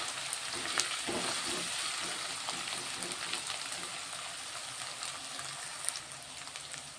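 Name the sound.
onions frying in a pan for chicken fry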